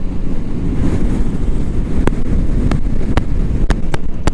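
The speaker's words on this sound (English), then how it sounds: "this is windy, my mic probably sounds horrific" Heavy wind near the sea buffets the microphone with a constant low roar, broken by several sharp clicks and pops toward the end.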